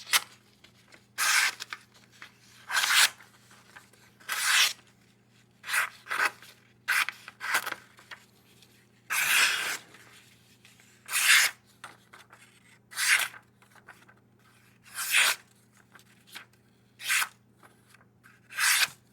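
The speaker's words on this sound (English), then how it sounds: "Let's do a little cuts with it." A thin flat-ground blade on a small Kizer Shrike pocketknife makes repeated short slicing rasps, about a dozen quick cuts at an uneven rhythm, close and crisp with no talking.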